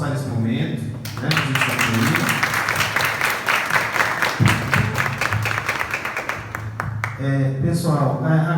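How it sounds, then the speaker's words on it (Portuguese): An audience at a school literary soirée claps in sustained applause for several seconds, dense and steady, with talk from a speaker before and after it. "Gostaria de pedir uma salva de palmas para esse momento"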